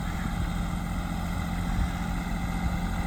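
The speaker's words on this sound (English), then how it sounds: "You're driving grandpa's tractor." Tractor engine idling steadily, a low continuous mechanical rumble close by with no talk over it.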